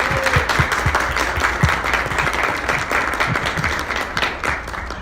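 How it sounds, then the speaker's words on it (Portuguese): A seminar audience gives a warm, sustained round of applause welcoming a nutritionist speaker, many hands clapping evenly and fairly close, with a few sharp individual claps standing out from the crowd. "Uma salva de palmas, Aline Stevanato."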